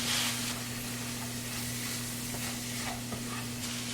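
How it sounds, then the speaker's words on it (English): Italian red pepper chicken with garlic powder simmering in a pan, a steady soft sizzle and hiss with a low constant hum underneath, close and even throughout with no talk. "And then we're just going to let it simmer until it's combined well."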